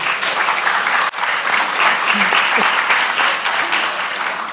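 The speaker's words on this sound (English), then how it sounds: "a warm round of applause, please, for my wonderful panel" Steady, full applause from a crowd, loud and continuous throughout with no voices rising above it.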